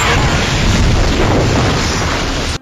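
Jet engine exploding on a beach after the crash of Oceanic Flight 815 in the TV drama Lost, a loud, sustained roaring blast that holds for about two seconds and then cuts off abruptly.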